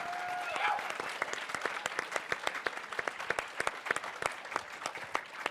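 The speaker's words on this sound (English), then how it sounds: "I think we need a big round of applause for all the candidates for that great discussion" Applause breaks out for the candidates at a California gubernatorial forum on housing, a crowd's steady clapping with individual sharp hand claps standing out and thinning slightly toward the end.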